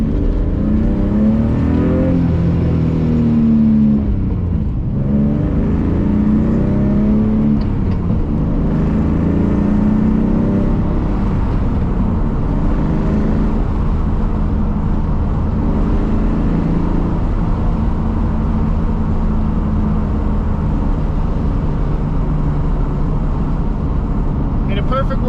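A BMW E46 with an M52 engine and headers driving, its exhaust holding a loud steady drone that shifts in pitch as it revs, with someone talking over it throughout.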